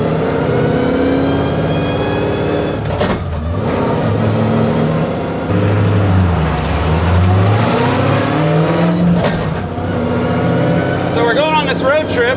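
A supercharged 1967 Chevy C10 truck cruises down the road, its engine droning steadily with rising and falling revs while people talk throughout.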